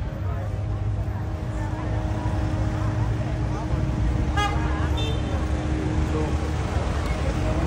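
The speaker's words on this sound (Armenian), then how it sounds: "Մեծ նավակները եկան։" Large boats arrive at the seaside harbour of Amalfi, with a sustained horn tone and engine drone over a busy wash of water and traffic noise; faint voices are present in the background.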